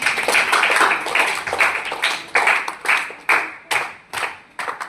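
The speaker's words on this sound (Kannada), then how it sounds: "ಸರಿಯಾದ ಉತ್ತರ. ಚಪ್ಪಾಳೆ." At a school quiz, a group claps for a correct answer with a series of sharp, rhythmic claps, roughly a dozen distinct beats, close and loud, with no talking.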